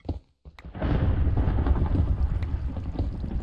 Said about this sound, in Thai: ผมรู้สึกว่าผมเริ่มชินกับเสียงฟ้าผ่าแล้วนะ